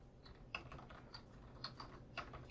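Keys clatter on a computer keyboard in a short, quiet burst of irregular taps close by, with no talking.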